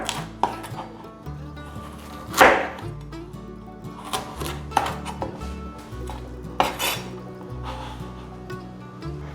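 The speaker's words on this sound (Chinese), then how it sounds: "把芋头对半切， 把不漂亮的地方切掉。" A knife halves a taro and trims it on a cutting board, giving four well-spaced, sharp knocks over soft, steady background music.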